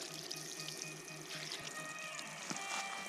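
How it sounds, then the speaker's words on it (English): Heated river water sprays steadily from a portable shower, a continuous close hiss of falling water with faint splashy irregularities and no talking. "With this one, it's so portable, you can literally shower anywhere. This is water straight from the river that I've been heating up in here."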